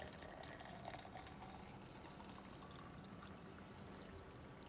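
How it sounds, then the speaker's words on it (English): Hot water pours steadily into a tumbler over loose tea leaves, a soft, continuous trickling stream that stays even and fairly faint throughout. "you take your hot water and you just pour it inside"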